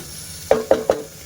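Onion sautéing in a pan with turmeric and salt stirred in: three quick, close scraping knocks of a spoon half a second apart over a faint background.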